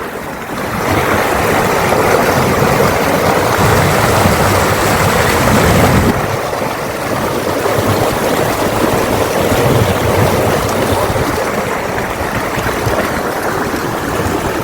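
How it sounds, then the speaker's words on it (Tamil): Water rushes and flows in at Arali Valukai in Jaffna: a loud, continuous broadband wash of moving water, steady for the full stretch with a slight shift midway, and no voices over it. "பாருங்கள் இப்போதான் தண்ணி எப்படி ஓடி வருது என்று பாருங்கள்"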